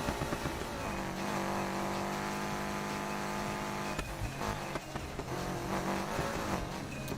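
A car engine in the racing game Need for Speed Heat revs and accelerates with a throaty, rising drone, sustained and fairly faint, with a sharp shift or impact near the middle and renewed acceleration afterward.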